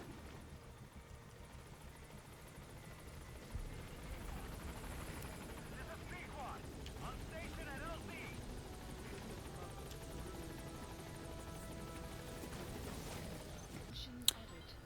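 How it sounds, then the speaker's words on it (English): Helicopter in Metal Gear Solid V: The Phantom Pain, a steady rotor and engine drone held throughout, fairly quiet and continuous with a brief sharp click near the end. "And then put him on the chopper."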